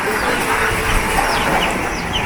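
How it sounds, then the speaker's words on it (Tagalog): Small Visayan native chickens cluck and chirp sporadically outdoors against a steady broadband wash of background noise, with no one speaking. "Mga Bisayang manok."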